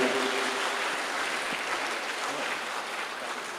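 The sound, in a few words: audience applause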